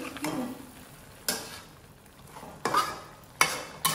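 Vegetables are stirred in a cooking pot for a hospital-style mixed vegetable dish, with a few separate scraping strokes over a low simmering sizzle. The strokes are spaced out and moderately close, and no one talks.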